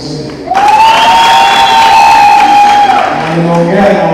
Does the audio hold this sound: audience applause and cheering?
yes